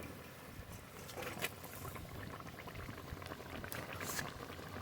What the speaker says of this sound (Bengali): ঝোল খুব ভালো করে ফুটিয়ে নিয়েছি